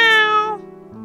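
A cat meows in the video game Nameless, a single drawn-out mew that starts bright and loud and then sags into a lower, fading tail, close and clear with no talk over it.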